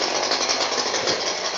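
An Echo 501P chainsaw with a 14-inch Canon dime tip bar and quarter pitch chain runs at a steady, loud, rasping roar while carving an owl, close up with no talk.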